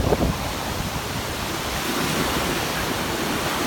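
Ocean waves and surf wash steadily onto an oceanfront sandy beach in Cancun, Mexico, a continuous loud roar with some wind buffeting the microphone and no voices.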